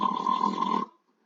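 A loud, guttural snore voiced by a person imitating a sleeping dwarf, one long rasping breath lasting under a second, then silence.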